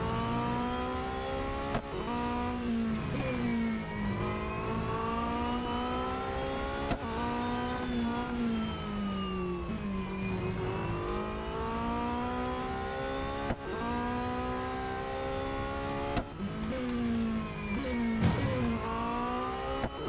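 Race car engines in Real Racing 3 during a multi-lap race, a loud continuous roar that repeatedly revs up and drops sharply at gear shifts, with brief whooshes of passing cars throughout.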